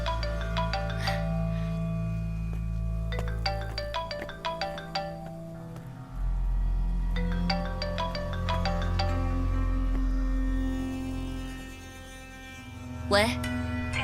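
A phone ringtone plays a bright repeating melody in two separate bursts over a low background bed in a drama scene.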